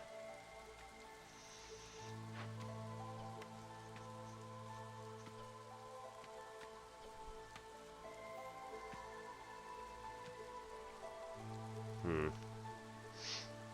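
Drizzle patters in the video game Against the Storm, soft rain ticking beneath game music with sustained tones and occasional chimes, fairly quiet, no voices.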